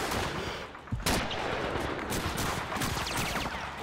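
Gunfire from enemy soldiers in the World War II shooter Call of Duty 2, battle for Hill 400: dense rapid shots and bursts, loud and close, running continuously with no talk.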